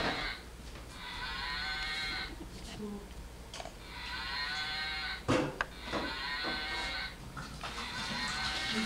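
A cartoon moon cow moos in high, drawn-out tones in three or four long calls spread across the stretch, over a steady background hum and occasional short clatters.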